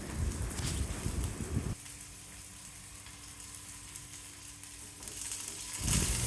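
Small shallots, garlic cloves and curry leaves sautéing in a pan for a tamarind curry with bitter gourd: a steady, airy sizzle that drops to a softer hiss midway and then swells again, with no voices.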